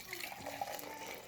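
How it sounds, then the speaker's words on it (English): Water poured back into a measuring cup while making French press coffee, a brief, faint splashing trickle lasting about a second. "I'm going to pour this water back into the measuring cup,"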